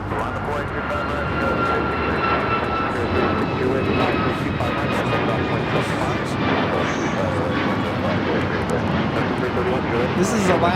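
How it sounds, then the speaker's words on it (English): Alaska Airlines Boeing 737 MAX 9 jet taking off from runway 25 right at LAX, a loud sustained engine roar with whining tones throughout, people talking under the noise. "This is Alaska Airlines 1035 taking off to Puerto Vallarta on a MAX 9."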